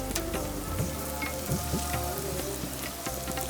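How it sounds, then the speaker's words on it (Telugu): Bitter gourd pieces fry in oil in a pan, a steady close crackling sizzle with bursts of popping and a faint scrape of stirring, no voices. "ఇలా వేయించుకోవాలి కాకరకాయలు."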